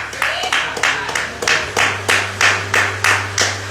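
Church congregation at a Wednesday evening service clapping in a steady rhythmic beat, about two claps per second, loud and close throughout with a low hum underneath.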